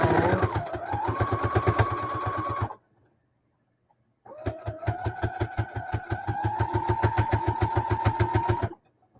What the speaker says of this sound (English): You hear me sewing and you can't even see.